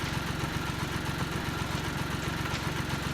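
Compact tractor engine idling in Farming Simulator 19, a steady close mid-pitched chug with an even knocking pulse throughout.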